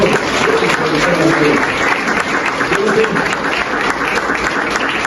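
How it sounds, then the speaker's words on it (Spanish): Church congregation applauds during a sermon on the prayer of Jabez, a loud, dense and continuous round of clapping that holds steady throughout, with voices mixed in beneath. "Denle un aplauso al Señor"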